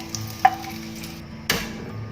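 Garlic and shrimp frying in a pan give a soft, steady sizzle with a couple of sharper clinks or stirring knocks, close and fairly quiet, with no talking.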